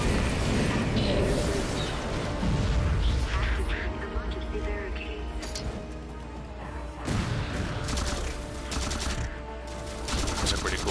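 Rapid gunfire in the video game Halo 4 from a fast-firing weapon that drains its ammo quickly, loud bursts mixed with crashes and mechanical clatter, with speech alongside.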